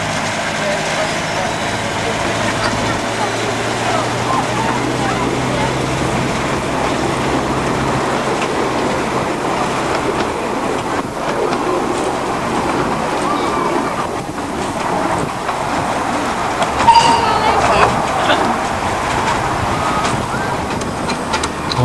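A small steam locomotive on the Cleethorpes Coast Light Railway pulls away, a steady low rumble with hiss and wind noise running throughout, and a brief louder burst near the end.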